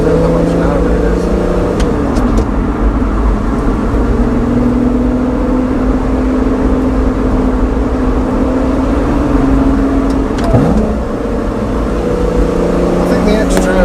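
A car engine pulls hard in second gear, a loud, rising drone that climbs steadily in pitch and drops briefly at a shift, heard from inside the cabin with someone talking over it.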